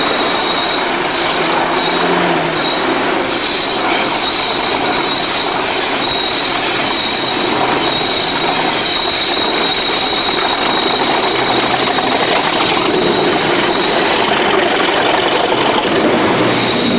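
A pair of Class 37 diesel locomotives haul a train of empty coal wagons past a closed colliery halt on the Oakdale branch, a loud sustained rumble of engines and wagons with clattering wheels and squeals, close and unbroken throughout.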